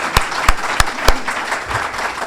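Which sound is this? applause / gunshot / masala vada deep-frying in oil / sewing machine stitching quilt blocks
applause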